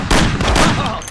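Rapid gunfire in the video game Mafia, a loud, close burst of shots lasting about a second.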